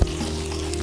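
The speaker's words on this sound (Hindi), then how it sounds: "अब लगा रहे हैं हम घी का तड़का।" Ghee tempering (tadka) poured into a hot pan for Moradabadi biryani, sizzling steadily after a short initial burst, moderately loud and close with no talking.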